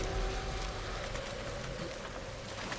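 Heavy rain in the video game Hunt: Showdown 1896 pours down in a dense, constant hiss with no voices.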